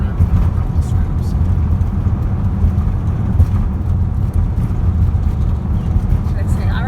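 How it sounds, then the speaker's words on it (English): Car tyres rolling over road rumble strips on a road trip: a continuous loud low rumble and drone of the vehicle interior, with no clear talk over it. "It's driving on the rumble strips"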